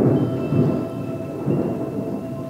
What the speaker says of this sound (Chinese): 所以现在打雷了。